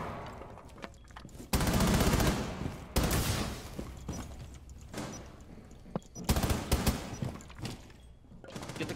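MX4 submachine gun fire in Rainbow Six Siege, Valkyrie's weapon, coming in several loud, close bursts of rapid shots separated by quieter gaps.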